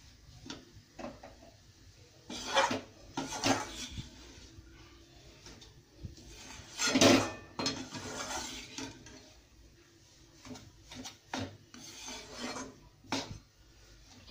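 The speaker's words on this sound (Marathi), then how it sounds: "गॅस मीडियम ठेवा व एकसारखं हे पीठ हलवत राहा." Flour roasts dry in a pan over medium heat while a spatula keeps moving it, making scraping, rubbing strokes and occasional metal clinks in irregular bursts, close and soft, without any talking.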